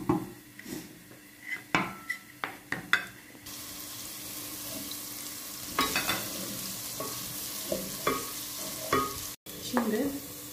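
Chicken and vegetables stirred and fried in a pot for a beetroot soup, with intermittent utensil clinks against the pot over a steady sizzle that grows louder midway.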